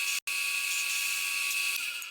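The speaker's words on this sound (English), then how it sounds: "I wonder if I need to use a regular drill." A small high-pitched drill whines steadily as it bores holes in an electric guitar pickguard, loud and continuous with one brief cutoff near the start.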